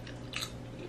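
Close, quiet crunching bite and chewing of popped glass gem corn popcorn, a single brief crisp crunch alone with no talk.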